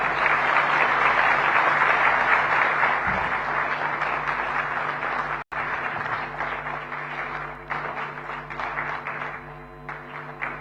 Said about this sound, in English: let that applause continue as we heard from the Chief Minister, Government of Maharashtra, Shri Devendra Fadnavis ji